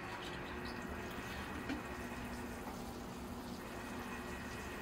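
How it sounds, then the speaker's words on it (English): Water poured over freshly repotted bonsai trees in a larger pot of new soil, a steady soft splashing and trickling wash that runs evenly throughout without talk. "So I'll give the trees a water."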